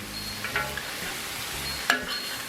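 Mung bean sprouts and cabbage stir-fried in a hot pan, with a steady sizzle and a few soft stirring scrapes, plus a brief sharp clink near the end.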